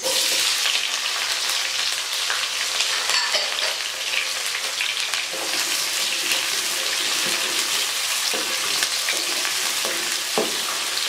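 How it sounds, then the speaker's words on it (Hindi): Chopped onions sizzling and frying in hot oil in a pan for chana pulao, a steady loud crackling hiss with occasional stirring scrapes throughout, no voices. "तो अब हम इसमें डाल देंगे प्याज"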